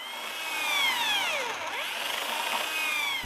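A power drill bores a latch hole into the edge of an interior wooden door, a steady whining spin that rises and dips in pitch as the bit bites into the wood, fairly close and with no talking.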